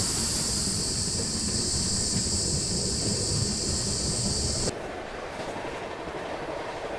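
The 12428 Anand Vihar Terminal–Rewa superfast express running at speed, heard from inside an AC coach, a loud steady rumble with clickety-clack of wheels over rail joints and a high hiss that suddenly drops away near the end.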